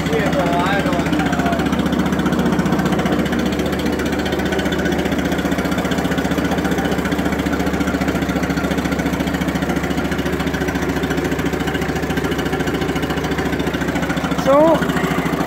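A 1951 Ferguson TE 20 tractor engine idles with a steady low rumble that holds throughout, close by, with people talking quietly over it.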